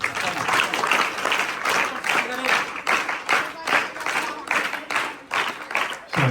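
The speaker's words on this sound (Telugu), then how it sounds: "మన ప్రధానోపాధ్యాయుల్ని చప్పట్లతో ఆహ్వానిద్దాం" An audience at a school event claps in sustained, rhythmic applause to welcome the headmaster, loud and close, rising and dipping in waves.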